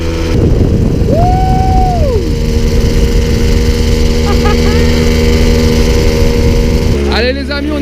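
A 1970 Motobécane 50V moped, orange, runs at speed with a loud, steady buzzing two-stroke drone. Its pitch rises and then holds level, and a brief throttle change comes near the end.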